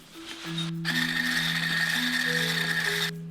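An electric mixer whips meringue with powdered sugar for a strawberry pavlova, giving a steady, close motor whir with a droning tonal hum that starts after a brief pause and runs for about two and a half seconds.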